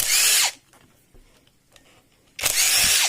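Power screwdriver or drill backing screws out of an Ecosoft water pump motor, with two loud, close bursts of whirring at the start and end and a quiet gap between them.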